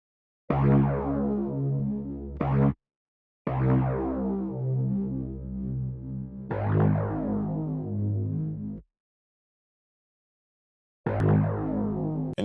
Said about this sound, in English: the bass sound is bass chrome, and it's coming from the Cascade Analog Lab Bank.